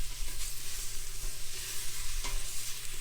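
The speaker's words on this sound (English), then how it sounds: "we're going to stir those and let them cook for about 5 minutes" Onions sizzle and fry in a pot for seafood gumbo while being stirred, a steady crackling hiss close by with soft scraping strokes, no voices.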